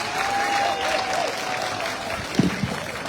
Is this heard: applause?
yes